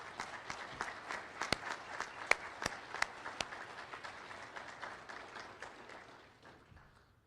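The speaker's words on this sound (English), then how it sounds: "please give the employees of Rappahannock Electric Cooperative a round of applause" Audience at a Rappahannock Electric Cooperative annual meeting breaks into steady applause, many hands clapping with a few sharp louder claps standing out, the sound tapering off over the final second or two.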